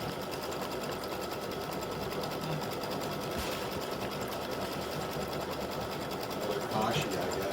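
Up close, an embroidery machine stitches an open zigzag tack-down around fabric appliqué for a gnome design, with a steady rapid mechanical hum and needle rattle. Someone talks over it.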